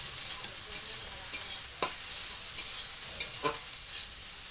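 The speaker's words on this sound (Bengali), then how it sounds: "আর মাংসটা করার জন্য এখানে আমি পেঁয়াজ ভাজতে দিয়েছি।" Onions fry in a pan with a steady, close sizzle, punctuated by several sharp scraping strokes of a spatula stirring them at irregular intervals.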